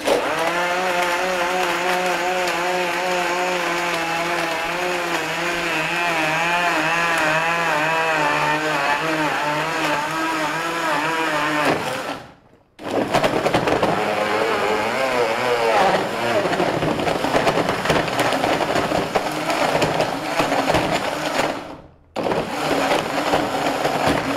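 Powerful industrial Raffles blender crushing glass with ice and water: a loud, high-revving motor whine with grinding, rattling churn, running about twelve seconds, cutting out briefly, then roaring again before another short stop.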